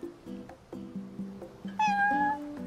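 A cat in Final Fantasy XV gives a series of short, close meows, ending in one longer, higher and louder meow, with no talk over it.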